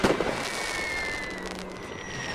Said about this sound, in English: Finally, the church was destroyed.